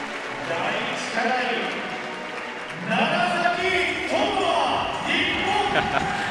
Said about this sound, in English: I hope you can hear that reaction from the crowd